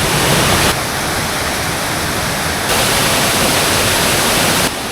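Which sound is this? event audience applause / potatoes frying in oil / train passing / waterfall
waterfall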